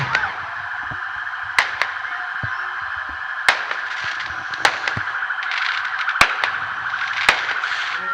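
Scattered sharp pops and bangs of fireworks at the start of the Sudecka Setka ultramarathon burst at irregular intervals over a steady background drone.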